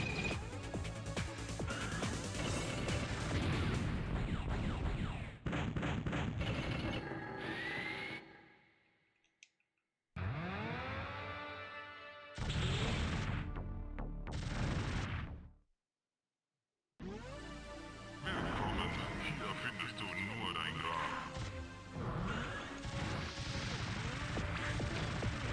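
Einhander, a PlayStation shoot-'em-up, blasts continuous rapid gunfire and crashing impacts over loud game music, with brief silent gaps where the action cuts out.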